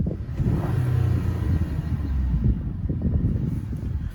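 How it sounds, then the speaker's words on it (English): A Chevy Colorado ZR2 with a GM Performance cold air intake rumbles in park, heard with the windows down, a low rough engine sound with a short rise in revs, close and moderately loud. "I'm gonna throw it in park here with the windows down just so you can hear it."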